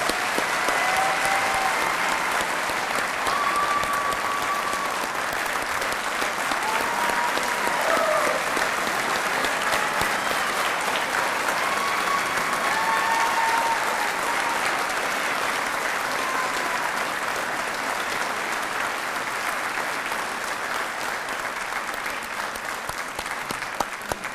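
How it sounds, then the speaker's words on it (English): A large crowd at a police academy graduation ceremony applauds the 122nd recruit class, keeping up a dense, sustained roar of clapping for over twenty seconds with a few faint tonal sounds in the mix. "one more round of applause for the 122nd recruit class"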